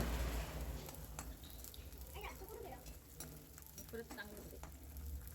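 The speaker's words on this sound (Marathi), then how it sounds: "आता थोडा थोडा करून डिंक चांगला खरपूस तळून" Edible gum fries in oil a little at a time for fenugreek laddus, a quiet, continuous sizzle with light crackles and a few soft stirring taps.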